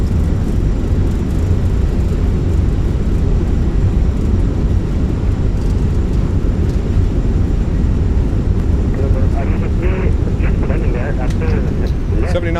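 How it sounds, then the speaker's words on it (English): An Airbus A319 rolls out after landing in a flight simulator game, thrust reversers deployed, producing a loud, constant broadband roar of engine and rushing air, with a voice talking faintly over it toward the end. "Goes down gently, reversers are out."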